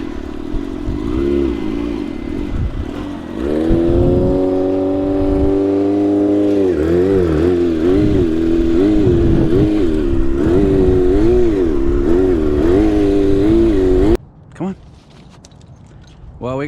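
A stunt motorcycle engine revs hard and holds a high, wavering note for several seconds, then cuts out abruptly and leaves brief near-silence.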